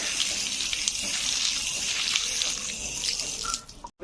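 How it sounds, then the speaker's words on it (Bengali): Gondhoraj lemon leaves are rinsed under a running kitchen tap, a steady close splash of flowing water that stops abruptly just before the end, with no talking. "একটু ধুয়ে নিই পাতাগুলো ভালো করে"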